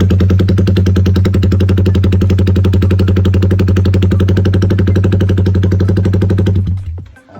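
A Yamaha Sniper 155 motorcycle fitted with a Red Leo Malaysia racing exhaust idles loud and close with a rapid, pulsing rasp, then is switched off and dies away at the end.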